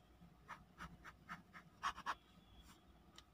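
A wet, smooth steel nib on an Airmail Wallity 70J eyedropper fountain pen writes on paper, giving a series of soft, evenly spaced scratchy strokes, with two slightly louder ones near the middle, quiet and close.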